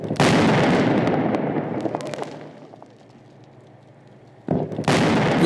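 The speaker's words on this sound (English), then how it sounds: "Sodium reacts immediately with water, which generates intense heat and causes an explosion." A loud, violent burst as sodium explodes in water crackles and fizzes, fades to a low hiss, then a second sudden blast erupts near the end.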